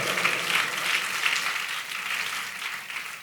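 Audience applause at a church gathering, a steady dense clapping that fills the room for about three seconds without any voice over it.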